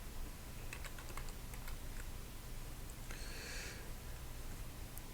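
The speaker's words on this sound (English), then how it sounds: "we're gonna now type park" Typing on a computer keyboard, a quiet run of scattered key clicks followed by a short denser burst, faint against room hiss.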